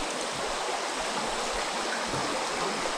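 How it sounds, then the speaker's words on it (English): Fast-flowing creek water rushes steadily and close by, a dense, even wash of turbulent flow through the shallows with no gaps or voices. "This is quite a creek."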